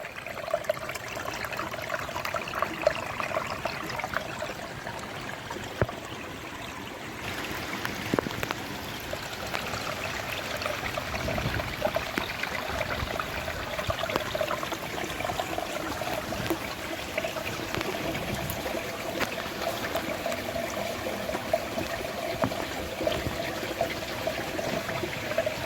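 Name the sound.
water flowing out of Vaghnath Bapu cave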